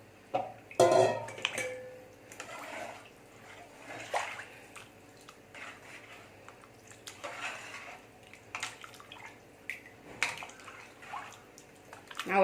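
Water poured from a vessel into a large five-to-seven-litre pressure cooker for mutton bone soup, a few quiet splashing pours with gaps between them, heard close in a kitchen with soft clatter.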